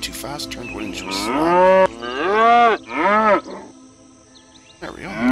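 Loud, deep cow lowing from the creature game Black and White, three long harmonic moos in quick succession, then a pause with faint background before another moo starts.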